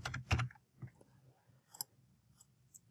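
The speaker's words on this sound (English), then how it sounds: "And I'm going to type in the description." A computer keyboard is typed on quietly, a few scattered faint clicks and taps with gaps of near silence between keystrokes.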